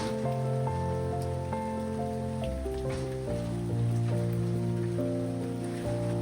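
Heavy rain falls at a Kyoto temple with wooden corridors, a steady, even patter and hiss throughout, partly covered by calm melodic music.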